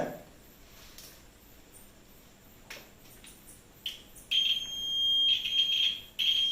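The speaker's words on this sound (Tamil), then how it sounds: "பஸர் மோடில் இருக்கு." A multimeter's high-pitched continuity buzzer beep sounds about two-thirds of the way in, holding as a steady tone with a brief break, over quiet background noise and faint clicks.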